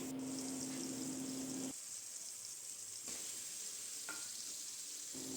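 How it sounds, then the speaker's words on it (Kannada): Tomato and green chili frying in a pan for crab sukka, a steady loud sizzle throughout with brief shifts in tone as the pan is stirred, close and with no talk. "ಟೊಮೆಟೊ, ಕಾಯಿ ಮೆಣಸನ್ನು ಹಾಕಿ ಚೆನ್ನಾಗಿ ಫ್ರೈ ಮಾಡಬೇಕು"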